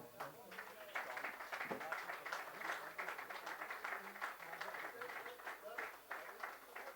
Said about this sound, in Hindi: तालियों से अभिनंदन आदरणीय राज्यपाल जी का।